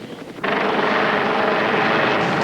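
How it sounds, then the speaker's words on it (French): A cartoon helicopter flies close by, a steady, loud whirring drone that kicks in abruptly and then holds constant, with no talking over it. "Oh, grâce au ciel, c'est un hélicoptère!"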